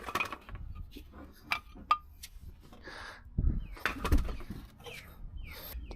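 Old brake pads are pulled from the brake caliper of a BMW G82 M4, giving several light metallic clinks and taps with soft handling noises in between, close and fairly quiet.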